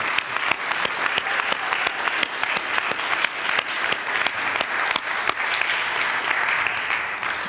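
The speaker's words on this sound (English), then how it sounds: "I would like us to give a round of applause for everybody who put in the time to perform today." A large audience at a variety show claps for the performers, a loud, sustained, dense roar of applause with sharp individual claps standing out, steady throughout.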